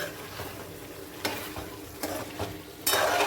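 A home-style village dish being stirred in a frying pan, soft scraping strokes over a steady sizzle, with a few sharper stirs standing out, close and alone with no talk.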